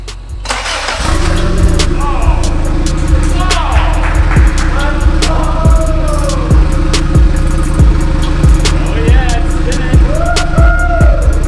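A 1993 Honda Civic EG hatch with a big-turbo LS VTEC engine on a dyno cranks and fires up, then runs loud and close with a rough idle and a few rising and falling rev blips.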